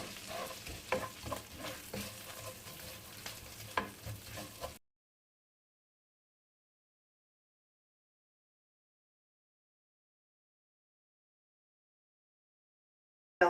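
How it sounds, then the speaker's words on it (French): Vermicelli sizzles and crackles as it is stirred in a frying pan until golden, a busy close frying hiss with scraping stirs for about five seconds before falling silent. "je vais faire revenir donc un tout petit peu ma vermicelle dans la poêle jusqu'à coloration"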